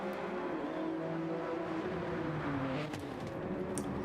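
Steady car engine drone from a sim racing game at the Spa circuit, humming continuously at a low, even level with no talking.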